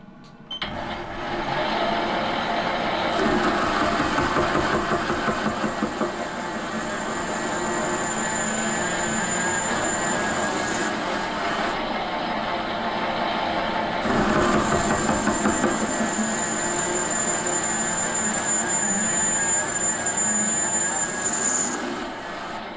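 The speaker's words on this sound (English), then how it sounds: "So as I'm machining this boss, I'll keep on checking that I get a decent fit." A metal lathe machines a boss on a model V-twin internal-combustion engine crankcase, giving a steady, loud mechanical whir with a high whine that drops out briefly and returns, running continuously with no talk.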